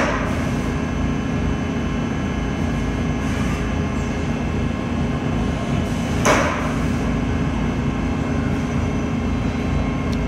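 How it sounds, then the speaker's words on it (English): A DMG Mori NLX 2000SY CNC lathe runs its sub spindle, giving a steady, loud mechanical hum and whine with one short sharp click partway through, and no voices. "So our sub spindle running."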